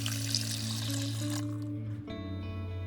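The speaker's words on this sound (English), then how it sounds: "Now we're just adding 4 cups of water." Four cups of water pour into a pot already holding curry, turmeric, onions, garlic, red lentils and steel cut oats, a steady close splashing stream running throughout with no talk.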